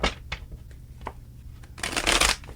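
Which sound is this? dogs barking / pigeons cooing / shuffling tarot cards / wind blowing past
shuffling tarot cards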